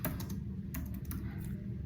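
Rapid clicking keystrokes on a computer keyboard while an email template message is entered, a steady close patter of key taps with a few louder strikes, no voices.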